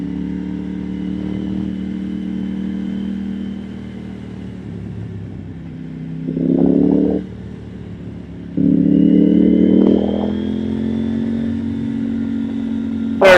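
A KTM Duke 890R climbs a hill in fourth gear at about 4,000 RPM with a loud, steady engine drone, swelling into two stronger surges as the throttle opens.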